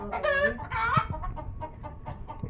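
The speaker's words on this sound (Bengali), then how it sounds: "দেশি মুরগিও আছে" Several local free-range chickens cluck and squawk close by in a busy run of calls, with a rooster-like cry among them, at a garden farm in Saudi Arabia.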